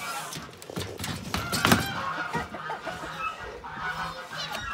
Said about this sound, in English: just locking the white geese up